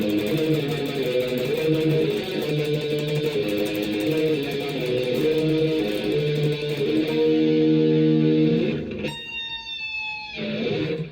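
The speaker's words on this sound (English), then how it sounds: "Next is this fast tremolo picking riff." Distorted electric guitar tremolo-picks a fast riff from Morbid's 1987 "Wings of Funeral," rapid even strumming loud and continuous, then briefly breaking into a few sharp squealing notes near the end before resuming.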